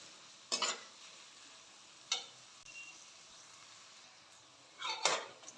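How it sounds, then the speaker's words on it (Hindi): Onions sizzle in a pan for fish biryani with a steady low hiss, punctuated by a few sharp scraping stirs; no one speaks. "प्याज जो है वो हम ज़्यादा लाल नहीं करेंगे, बस इसे भूनेंगे गुलाबी सुनहरा होने तक"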